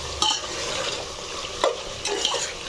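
A spoon scrapes and stirs chicken curry with garam masala in a pan, giving several close, distinct scraping strokes over a light frying sizzle, with no talking.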